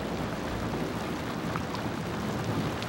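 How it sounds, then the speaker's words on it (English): Heavy summer rain pours down in a dense, steady hiss of countless drops, a continuous close wash of noise with no voices. "Within an hour, 4 inches of rain has fallen."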